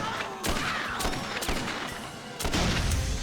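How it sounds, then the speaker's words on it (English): Video game gunfire at a clown in Dead Rising: Off the Record, a few sharp shots standing out over a dense, loud backdrop of game sound effects. "I'm shooting this clown with a gun."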